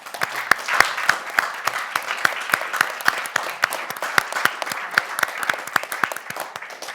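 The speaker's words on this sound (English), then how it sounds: "Just another round of applause for all of our speakers." An indoor audience at a live talk event applauds the speakers, a steady, dense patter of many hands clapping at moderate volume throughout, with no speech over it.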